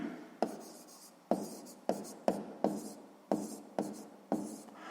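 Pen or pencil writing by hand on paper while working a sixth-grade math exercise, with repeated short scratching strokes in bursts, close and fairly quiet, no talk.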